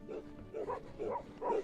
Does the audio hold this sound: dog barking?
yes